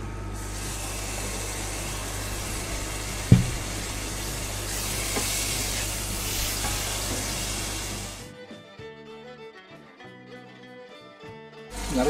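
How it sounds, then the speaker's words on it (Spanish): Cider splashed onto sautéed rice in a hot pan for a creamy lettuce and mussel rice dish, setting off a loud steady sizzle and frying hiss that fades away toward the end. "Unha vez que xa temos o arroz sofrito, vamos a incorporar o que é a sidra"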